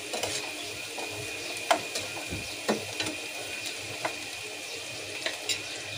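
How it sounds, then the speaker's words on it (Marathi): Onion frying in a pan with salt, a steady soft sizzle broken by occasional clicks and scrapes of stirring, close and moderate in level, with no talk. "कांदा मीठ घातल्यावर लवकर फ्राय होतो"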